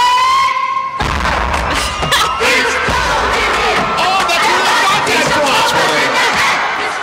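The University of Minnesota's first-ever crowd cheer, from an old recording: after a brief tone, a large crowd shouts and chants loudly and continuously in unison.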